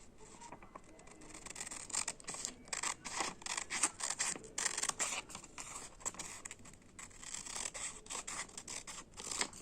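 Scissors cutting a colored paper craft sheet, with repeated crisp snipping strokes in an uneven rhythm, close but quiet, continuing through the clip with short pauses between runs of cuts and no talking.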